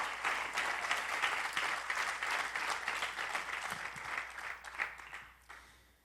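A church congregation bursts into applause during a sermon, a broad crowd of clapping hands that holds steady at a moderate distance and then tapers off toward the end.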